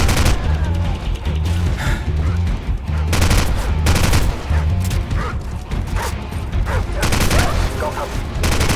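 AK rifle fire in the Call of Duty 4 video game, loud rapid bursts and repeated volleys of shots, with mechanical clatter between bursts and dense battle noise throughout.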